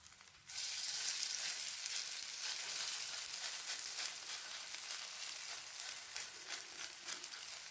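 Vegetable breakfast patties cooking on a medium flame, a dense even sizzle that starts abruptly and holds steady at close range with faint crackles throughout.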